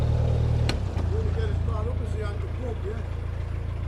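A narrowboat engine runs close by, a low steady throbbing idle on the river at the Cambridge Backs, with a person talking over it and a brief knock early on.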